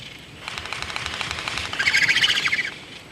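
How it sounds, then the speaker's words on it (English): Seabirds such as frigate birds and gannets over the Great Barrier Reef, heard as a dense chorus of bright chirps and calls that swells louder in the second half, with no talking. "High above the reef, frigate birds and gannets hunt for fish that they scoop from the water or steal"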